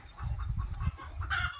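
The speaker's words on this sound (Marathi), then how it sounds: "इकडं पण कोंबड्या आहे" Farm chickens cluck nearby in short repeated bursts, soft and fairly quiet, with one brighter squawk toward the end.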